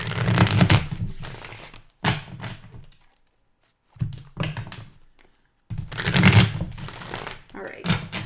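Cards are shuffled by hand in several short, papery bursts separated by pauses, close and fairly clear, with a voice speaking in between.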